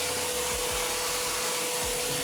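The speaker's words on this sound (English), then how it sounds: "I have to vacuum again" Vacuum cleaner running continuously, a loud close whirring roar with a steady high whine and faint low fluctuations, no voices.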